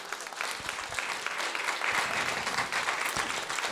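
A church congregation breaks into sustained applause during a worship service, a dense, steady wash of many hands clapping together that fills the room throughout.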